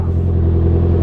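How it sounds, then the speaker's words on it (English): Loud, close exhaust note of a 2019 Honda CB650R motorcycle, a deep steady rumble with a strong low hum held evenly for about a second. "I really like the sound of the exhaust"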